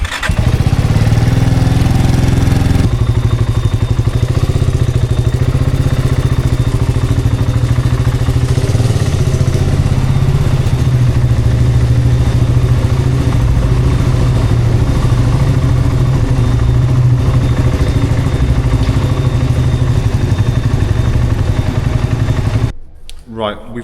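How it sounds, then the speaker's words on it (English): A motorcycle engine runs steadily and loud throughout, close by as the bike is parked in the basement of a monastery hotel, with a rough low idle that cuts off abruptly near the end. "I'm just going to park the bike"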